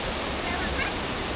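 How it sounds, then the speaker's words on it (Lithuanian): A jungle waterfall on Lombok pours in a steady, dense roar of rushing water that stays close and constant for the whole stretch, with no breaks. "Įspūdingiausias krioklys, kurį esu matęs gyvenime"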